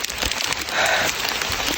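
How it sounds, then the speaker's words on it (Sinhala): Steady rain falls on a mountain pilgrimage trail about a kilometre from the journey's end, a dense, even patter holding at the same loudness for the whole moment with no voices. "ගයිස් අපේ ගමනේ අවසානයේ කිලෝමීටරයක් විතර තියලා වැස්සක් පාත් වුණා"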